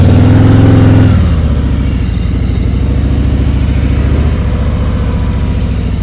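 A motorcycle engine runs loud and close while held in check by the rear brake, its note dropping after a second into a steady, throbbing idle-like drone.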